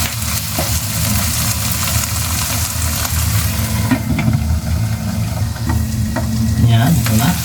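Bagoong and meat cook in a pan for Bicol Express. They give a loud, steady sizzle with a low rumbling undertone and a few light clinks.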